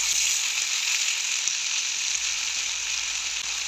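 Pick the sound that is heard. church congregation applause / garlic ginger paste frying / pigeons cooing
garlic ginger paste frying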